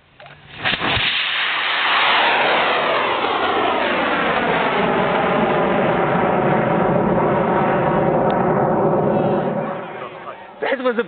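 A full beer keg rocket launches with a sharp blast and then roars loudly and steadily for about nine seconds before cutting off, with brief voices at the start and end.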